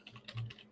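Computer keyboard keys are typed in a quick run of soft, close clicks, with one heavier thump partway through.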